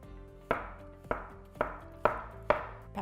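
Zucchini is chopped on a board with a knife in five crisp, evenly spaced strikes, each a sharp close thud that quickly fades, with no voices.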